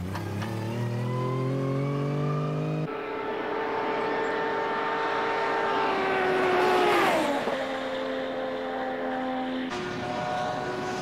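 A Pan Speed RX-7 with a three-rotor turbocharged rotary engine making 680 horsepower at 1.2 bar boost accelerates hard on a test track in 1994, its loud, smooth high-pitched wail rising through the gears.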